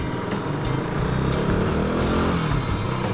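A KTM RC390 motorcycle engine runs close by, a steady buzzing drone with a rising tone as it revs, loud and continuous.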